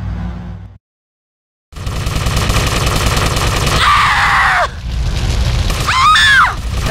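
Gunfire and explosive booms erupt in GTA Vice City Stories, loud and dense after a brief silence, with shrill whistling tones near the end.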